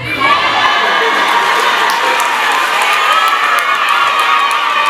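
A large crowd at a Chadema political rally in Tanzania cheers loudly and steadily. Shouts and whoops rise over a continuous roar that carries through the whole stretch.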